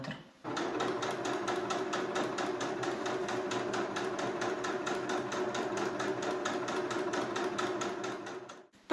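A sewing machine runs a steady, rapid stitch along a hem close to the fold, its even mechanical chatter sustained for several seconds before stopping abruptly.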